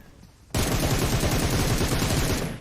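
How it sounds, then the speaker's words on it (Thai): Sustained burst of automatic gunfire in the battle game PUBG Mobile, starting abruptly after a quiet moment and hammering on loud and rapid for about two seconds before easing off. "ยิงตัวไกลอย่างเดียวเลยนะครับ"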